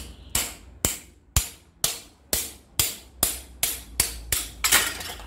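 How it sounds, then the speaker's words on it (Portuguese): Pliers tapping gently on a bicycle handlebar grip during assembly of a women's motorized bike, about ten sharp, evenly spaced metallic knocks roughly half a second apart, close and clear with short decays. "Põe o alicate aqui, ó. E vai batendo devagarzinho aqui, ó."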